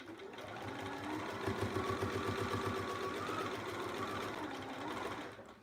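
Sewing machine top-stitching fabric on a zipper pouch, a steady rapid mechanical whirring and thumping of the needle running continuously at close range, then stopping abruptly.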